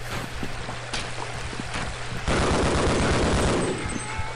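Gunfire in the video game Half-Life: Blue Shift from an inaccurate gun: a run of sharp, rapid shots over a steady low hum, swelling into a denser, louder clatter for the final couple of seconds.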